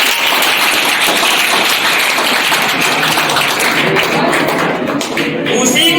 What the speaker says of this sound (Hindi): चलो एक प्रतीक के लिए जोरदार ताली बजा दीजिए।